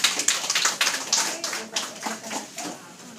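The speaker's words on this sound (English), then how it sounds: "give a round of applause" A seminar panel audience claps briefly, a sparse, uneven patter of hands in a room that fades quickly, with a voice talking over part of it.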